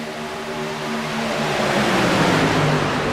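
Race cars roar around the 2.6-mile Talladega Superspeedway, a dense, sustained engine drone that swells slightly as the pack passes, with no voices.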